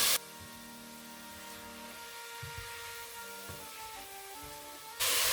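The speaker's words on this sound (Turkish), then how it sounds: "Etimizi yüksek ısıya atıp mühürlenmesini sağladık." Beef cubes sear in a very hot pot for Turkish hünkar beğendi, giving a steady, close hiss of sizzling that runs evenly for several seconds before cutting off.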